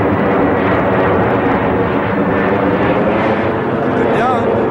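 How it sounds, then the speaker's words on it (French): Airplanes flying over near Roissy airport: a loud, continuous roaring rumble fills the whole stretch, steady and close overhead, with a voice faintly present beneath it. "Le seul souci, c'est les avions, quoi."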